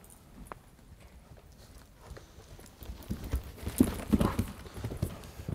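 A horse trots during a riding clinic, its hooves clip-clopping in a steady rhythm that grows closer and louder toward the end.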